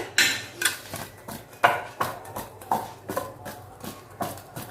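Spiced potatoes and a spoonful of oil are tossed in a bowl for dhaba-style dum aloo, giving a string of regular clattering knocks about twice a second.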